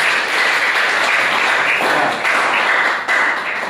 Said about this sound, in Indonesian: Aplaus buat narasumber 1